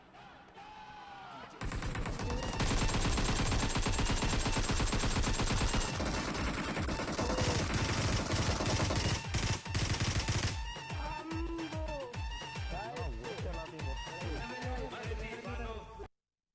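Automatic fire from an AK rifle rattles through a video game match, loud dense bursts sustained for many seconds, then continuing as sharper separate shots amid other game sounds.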